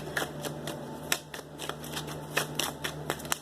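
Tarot cards are shuffled by hand and drawn during a daily reading, a close run of papery riffles and flicks in an irregular rhythm with a low steady hum underneath.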